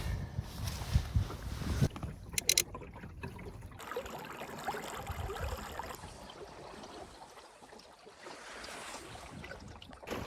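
Water laps and splashes against the hull of a small two-meter Optimist sailing dinghy, with gusty wind noise and occasional knocks as it moves along, in Sweden.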